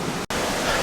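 Steady broadband rush of a creek flowing beside a trailside campsite on the way toward Rosalie Peak, close and continuous, with one brief dropout.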